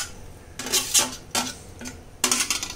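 A spoon scrapes and clanks against a pan while potatoes with yogurt are stirred for Kashmiri dum aloo, several distinct metallic strokes in an uneven rhythm, close and loud, with no talk.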